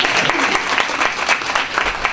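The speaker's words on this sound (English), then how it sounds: "give yourself another round of applause for participating." Workshop audience members clap together in a dense, continuous round of applause, close and fairly loud, with individual hand claps popping out of the steady patter.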